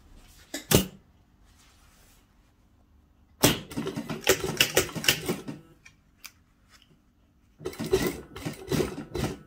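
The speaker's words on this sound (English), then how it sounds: "Now we have to sew cross from here to here." A sewing machine stitches across a shirt cuff in short whirring bursts, a brief run first and then two longer rattling runs separated by quiet pauses, close and moderately loud.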